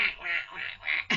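A mallard duck quacks four times in a quick, even rhythm, nasal and fairly close, with no talk over it.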